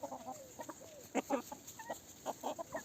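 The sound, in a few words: chickens clucking, young hens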